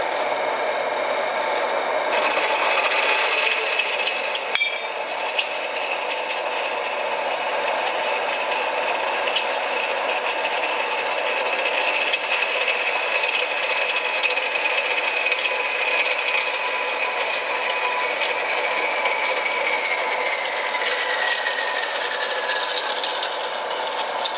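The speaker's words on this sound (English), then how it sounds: "So the best thing to do that with is the horizontal bandsaw." A horizontal bandsaw cuts through a metal acetylene torch part, giving a steady, continuous whirring grind with a faint scraping edge that holds throughout at moderate volume.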